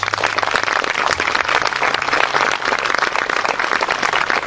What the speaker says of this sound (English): you can acknowledge that with a round of applause